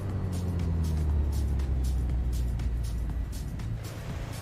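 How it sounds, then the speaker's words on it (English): Cars drive around a racetrack in Microsoft Flight Simulator, giving a steady, low engine rumble with faint whooshing passes. It is continuous and moderately loud with no talk over it. "Oh, there is cars going around the racetrack."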